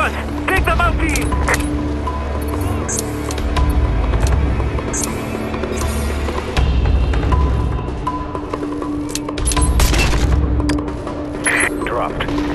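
Gunfire in the Call of Duty Strike Team video game during an Afghanistan mission, with bursts and booms over a steady loud bed of game sound and music, while voices call out under the action.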